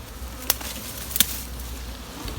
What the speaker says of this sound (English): you can start to brush the bees in